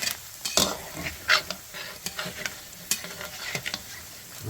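Rice crackers (khao kriap) frying in hot oil, a steady close sizzle broken by sharp crackling pops and the clink of a utensil stirring in the pan, with no talking.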